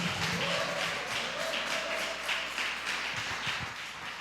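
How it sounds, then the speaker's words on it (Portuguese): Church congregation applauding together during a sermon, steady broadband clapping sustained throughout with a faint low hum underneath and no speech. "se expresse dando um forte aplauso para o Senhor Jesus"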